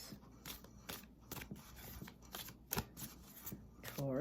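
A deck of tarot cards is shuffled by hand, giving quick papery riffles and soft taps in an irregular rhythm over a quiet room background, with faint speech.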